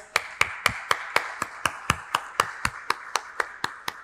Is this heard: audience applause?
yes